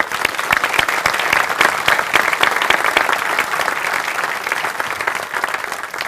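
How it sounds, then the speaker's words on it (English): A large audience at a military change of command ceremony applauding, a loud continuous crackle of many hands clapping that holds steady for six seconds before easing slightly. "please give them and yourselves all a big round of applause"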